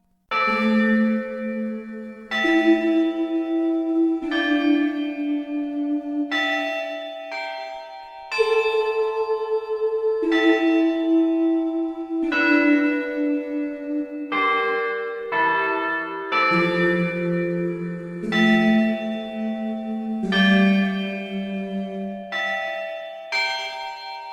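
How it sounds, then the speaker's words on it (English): Bells and humming voices from the Tombi! 2 video game soundtrack ring out in slow, resonant, melancholic tones, with sustained bell strikes layered over low hummed notes throughout. "The bells, the sad humming of souls trapped in time."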